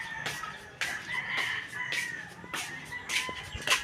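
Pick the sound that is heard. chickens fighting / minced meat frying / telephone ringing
chickens fighting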